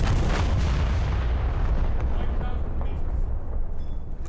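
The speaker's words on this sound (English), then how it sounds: "And we'll fire the rear turrets at that guy." In a naval video game, a warship's rear turrets fire an artillery salvo with a heavy, rumbling boom that rolls out and slowly fades, and a voice speaks faintly underneath.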